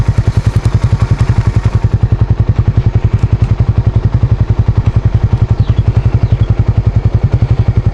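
A manual-clutch motorcycle engine, loud and close, pulsing in a fast, even low-pitched chug throughout, a steady running beat with no clear shift changes and no talking.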